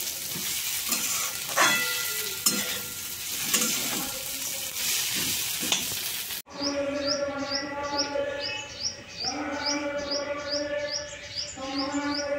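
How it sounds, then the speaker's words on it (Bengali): Potato and bitter gourd sizzle in a pan with stirring clatter for several seconds, then the sound switches abruptly to repeated bird chirps over a quieter background. "আর এদিকে এই যে আলু আর উচ্ছে ভাজা বসিয়ে দিয়েছি"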